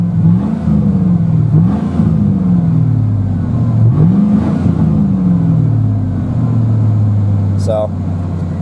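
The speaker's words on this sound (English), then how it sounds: "It's got a few revs." A 2001 GMC Sierra pickup's engine is revved in repeated rising and falling bursts, loud and close, with a steady idle drone between revs and talk over it.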